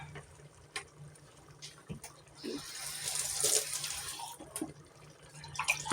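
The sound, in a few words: water being added to stew pot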